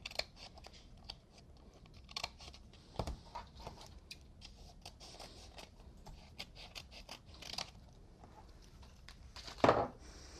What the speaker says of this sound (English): I'm going to go ahead and take my scissors and trim out this section here